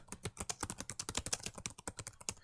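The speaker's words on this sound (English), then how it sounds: "then just type in the note" Rapid, steady keystrokes on a computer keyboard as a short note is typed, a close, crisp run of clicks with no talking.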